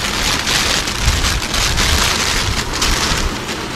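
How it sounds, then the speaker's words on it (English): Heavy rain pours down in a dense, steady roar of drops drumming on surfaces, loud and continuous with no voices. "Wow, it is really raining."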